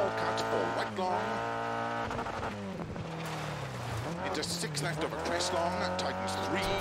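A rally car in Dirt Rally 2.0 roars under hard throttle, its engine pitch swooping up and down with gear changes, with tire squeal and skidding through drifts, loud and continuous while a voice talks over it.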